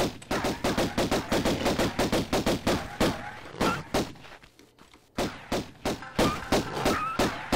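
Pistols fire in a rapid, steady volley of sharp shots in the original Tomb Raider video game. The shots pause briefly, then resume at the same quick rhythm.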